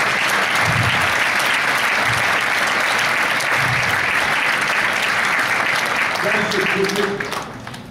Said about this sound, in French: Applaudissez ceux qui étaient ici, s'il vous plaît.